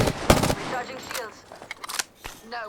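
A few gunshots in the Apex Legends video game, fired at close range in short bursts, with a voice speaking between and over the shots.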